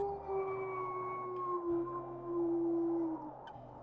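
A wolf in the video game Moxie's Quest gives a long, sustained howl. The pitch rises slightly and then falls away near the end, and the howl sits over a low, steady ambient hum with no speech.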